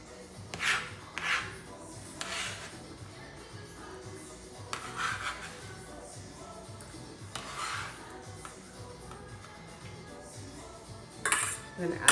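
Knife dicing food on a cutting board during a home cooking demonstration, heard as a few scattered clacks and scraping bursts against faint background room noise.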